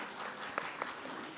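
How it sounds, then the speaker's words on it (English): A forum audience at a Malaysia-Japan book launch gives a short burst of applause, with a couple of sharper claps standing out over the steady patter. "Please give a hand of applause for Kato-san."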